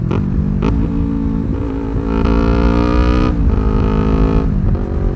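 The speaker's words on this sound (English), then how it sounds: "You can actually blip the throttle really, really nicely." A highly modified Yamaha R3 sport motorcycle gives sharp throttle blips, the engine jumping up in pitch and falling back in repeated rises, loud and close, with no talking.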